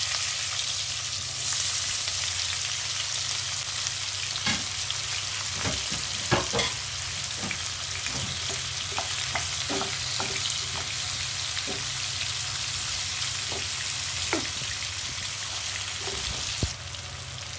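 Sliced onions hit hot oil already seasoned with whole garam masala for a shoul fish kalia, frying with a steady close sizzle, while a spatula scrapes and taps the pan at irregular intervals.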